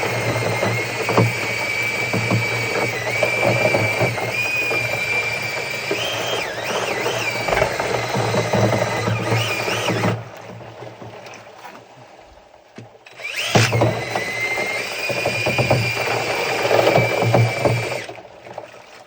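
A power drill whines steadily while churning a soda ash solution in a bucket, stops for a few seconds, then spins up again with a sloshing, whirring mix.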